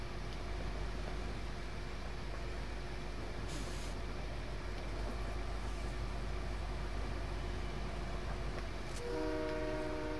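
A train in the Fortnite video game rumbles past steadily for several seconds, with a brief horn blast near the end.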